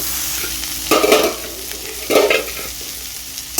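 Dhenki shaak greens sizzle softly in a pan while a spatula stirs and scrapes in three distinct bursts, the steady frying hiss carrying on between strokes with no talk.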